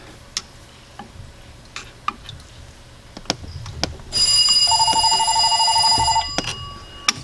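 A telephone rings during ski boat winterizing work in a workshop, a bright electronic ring about two seconds long that starts midway, loud and close, after scattered ticks and taps of tools.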